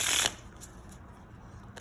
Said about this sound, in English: Let's go ahead and give the deck a shuffle.